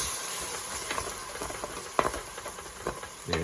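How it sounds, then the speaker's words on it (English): Dry white wine, 100 ml, cooks off in a pan of chicken cacciatore with a low bubbling sizzle, broken by scattered clicks and scrapes of stirring. "100 mils of a dry white wine. And we're basically going to cook that off."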